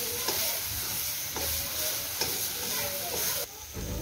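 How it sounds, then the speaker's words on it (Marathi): Chili paste and coriander powder fry in hot oil over a low flame, a steady close sizzle broken by several scraping stirs of a spatula, with a brief quieter dip near the end. "त्याच्यामध्ये जे मिरचीचं वाटण होतं तेही परतून देते।"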